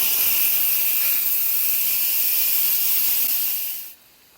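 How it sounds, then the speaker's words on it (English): Steam hisses steadily and loudly from an Instant Pot pressure cooker's release valve for several seconds, then cuts off abruptly, leaving near silence. "I will turn the valve so the steam will come out"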